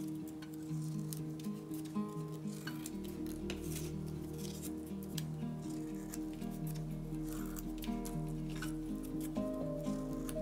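Scissors trim the top and bottom edges of crepe paper for a handmade dahlia, giving soft, close snips over steady background music with no talking.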